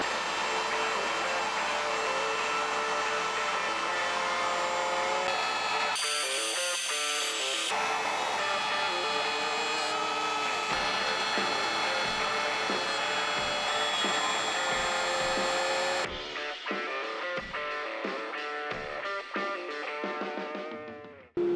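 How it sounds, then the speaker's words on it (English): A CNC router with a 1/4 inch end mill cuts pockets in wood, a loud steady whine with shifting pitch and a shop-vac style roar running continuously, briefly changing tone midway and stopping near the end. "Now that the pockets are cut, I can run my 3D roughing toolpath with the same 1/4 inch end mill"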